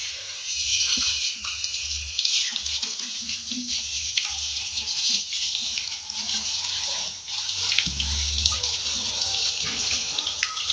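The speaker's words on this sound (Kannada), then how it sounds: "ಇದಕ್ಕೆ ಸ್ವಲ್ಪ ತಣ್ಣೀರು ಹಾಕೊಂಡ್ರೆ ಆಯಿತು" Cold water is poured over freshly boiled noodles, a continuous close splashing and pattering of water that runs steadily for several seconds with small surges.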